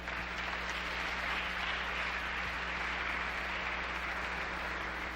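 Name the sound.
audience applause for the ambassador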